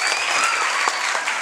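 A comedy magic show audience claps in a dense, steady burst of applause, loud and continuous with a faint tonal whine underneath.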